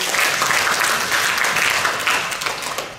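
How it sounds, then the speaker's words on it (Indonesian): An audience at a student paralympic sports event applauds athlete Petrus, steady, full clapping from a crowd throughout. "Tepuk tangan dulu buat Petrus."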